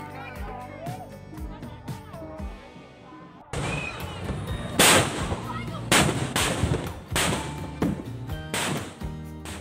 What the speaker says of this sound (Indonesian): menggelar letusan meriam karbit dan pesta kembang api